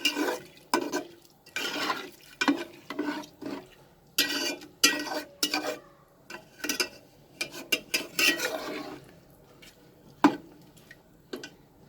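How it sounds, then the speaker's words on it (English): Peas pulao ingredients being stirred together with water in a cooking pot, giving a run of close, irregular scraping and clinking strokes of a spoon against the pot, repeated with short pauses and no voices. "3 glasses of water and I will increase the flame and then I will mix everything together."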